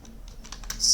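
Soft, quick keystrokes on a computer keyboard as code is typed during an IT class, a short faint run of clicks with no talking.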